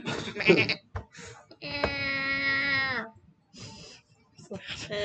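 A person's voice imitates a goat bleating, a long wavering bleat lasting about a second and a half, framed by short bursts of speech before and after.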